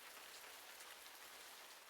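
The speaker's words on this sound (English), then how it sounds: "I woke up to the sound of rain gently falling." Gentle video-game rain, a soft, even hiss of many small drops pattering on a surface, steady and uninterrupted with no voices.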